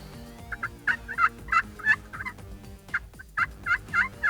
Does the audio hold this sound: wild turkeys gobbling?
yes